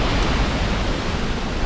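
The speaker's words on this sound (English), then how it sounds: "So there's the waterfall behind me, and it is really loud" A loud waterfall in a valley roars as a dense, unbroken rush of falling water, steady and close, with no voices over it.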